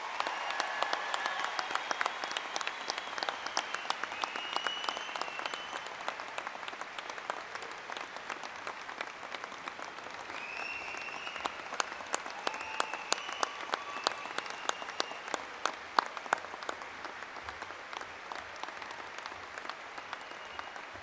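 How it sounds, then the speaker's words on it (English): Audience clapping at a university commencement ceremony, a steady wash of many hands heard from a distance, fairly faint and continuous with no talking. "Please give him a round of applause."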